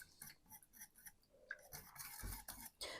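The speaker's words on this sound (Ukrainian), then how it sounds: "Ретельно все перемішуємо та доводимо до кипіння." Herring caviar being stirred with oil and tomato paste, soft scraping and light clinks of a utensil against a pot, close and quiet with no talking.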